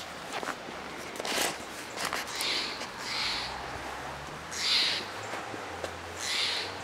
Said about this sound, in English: Oh, look at this bird.